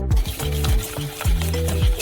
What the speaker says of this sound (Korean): 섞어주세요.